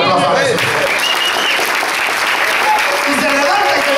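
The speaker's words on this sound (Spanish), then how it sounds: "Denle otro aplauso a Jesús." A church congregation gives loud, sustained applause for Jesus during a worship service, with dense clapping filling the room and voices mixed in throughout.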